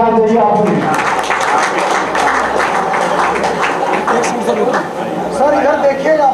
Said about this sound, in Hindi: आप सभी से अनुरोध है ताली बजाते रहना चाहिए।